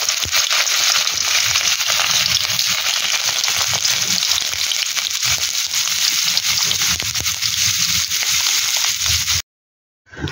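Stuffed spiny gourd frying in oil in a wok, a loud dense sizzle and spatter running steadily for about nine seconds before cutting off abruptly, with no voices.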